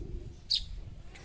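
A small sparrow visiting a house gives one brief, bright chirp, with a fainter second note a moment later, over a low indoor background hum.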